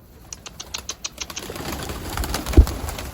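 Soft pigeon coos and light bird sounds nearby on a rooftop, with a brief thump near the end.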